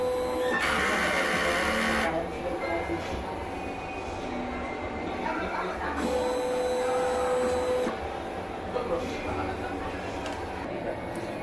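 A DTF printer runs its head clean cycle, a steady mechanical whir with two louder bursts of high grinding hiss and a sustained motor tone, close and continuous.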